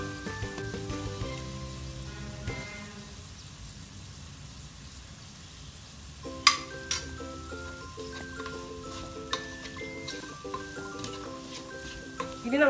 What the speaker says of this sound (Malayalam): നമ്മൾ ഇതിലേക്ക് 2 ടീസ്പൂൺ സോയാ സോസ് ഒഴിച്ചു കൊടുക്കുന്നു